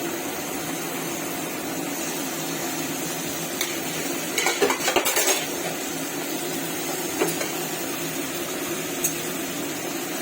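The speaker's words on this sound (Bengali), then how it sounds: "হালকা একটু নেড়ে চেড়ে দিচ্ছি।" Fish being stirred in a pan with a cooking utensil, a steady background hiss throughout with a short cluster of scraping and clinking in the middle and a few isolated taps later, no one talking.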